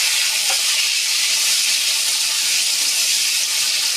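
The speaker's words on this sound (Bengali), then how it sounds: "এখানে আলুটা ভাজা হোক" Potato pieces coated in turmeric frying in hot oil, a dense, continuous hiss and sizzle that is loud and close, steady throughout with no talking.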